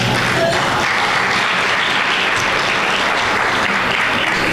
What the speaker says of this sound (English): A round of applause for our Master of Ceremonies.